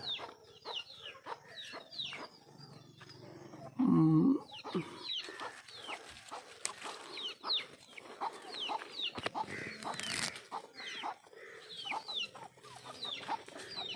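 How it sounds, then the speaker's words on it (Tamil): Chickens cluck and call at a poultry farm, a busy scatter of short clucks with one louder close squawk, set against a quiet outdoor background and no talking. "முருங்கை இலை பறிச்சோன்னு ஓடி வந்துடுவாங்க எல்லாம் கோழிகள்"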